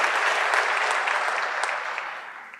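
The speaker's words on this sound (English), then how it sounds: "Can you give them a round of applause?" Audience at a public conversation event with former President Thabo Mbeki bursts into loud, dense clapping that holds steady and then gradually fades toward the end.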